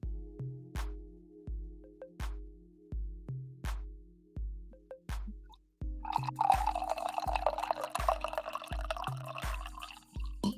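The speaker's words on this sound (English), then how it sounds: "let's pour some coffee" Liquid pours steadily into a cup with a rushing, splashing fill over about five seconds, close and moderately loud, following a run of regular rhythmic beats.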